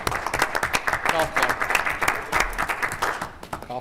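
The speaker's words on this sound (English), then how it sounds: "Golf clap." Polite, subdued applause from a small audience at a township committee meeting, a brief smattering of steady clapping.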